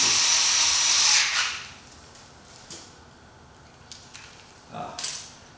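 A power screwdriver drives 5mm screws in a loud whirring burst lasting about a second, followed by quieter clicks and short handling noises.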